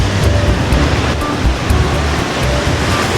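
Ocean surf rolling onto a deep sandy stretch of Bavaro Beach, a steady loud broadband wash of breaking waves with wind rumble, continuous and close with no talking.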